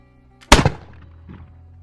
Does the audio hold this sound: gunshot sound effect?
yes